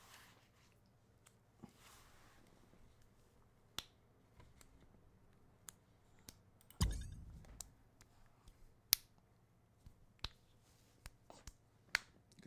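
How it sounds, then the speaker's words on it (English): Sharp, scattered claps ring out one at a time at uneven intervals in a GTA roleplay session, a few louder than others, with faint background noise and brief murmuring between them. "You got to clap them together."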